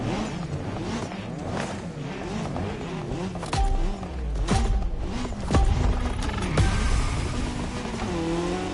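Racing-game car engine roars steadily throughout, with revving pitch sweeps, whooshes, creaks and brief tire squeals layered over continuous mechanical drive noise.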